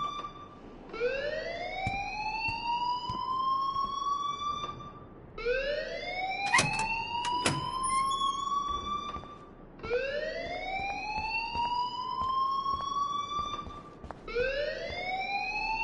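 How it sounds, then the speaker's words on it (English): A rising-and-falling electronic alarm wails repeatedly in Life is Strange Remastered, each sweep climbing then holding before cutting off, sounding loud and close with brief sharp clicks between cycles. "please turn off that alarm since that's your job"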